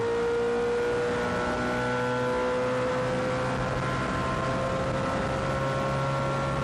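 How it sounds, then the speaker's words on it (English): A NASCAR Winston West Series stock car engine at Kansas screams at sustained high revs, a steady loud drone with stacked harmonic tones holding near the rev limiter, constant and unbroken throughout. "Did it sound like he's bumping the rev limiter there going into 3?"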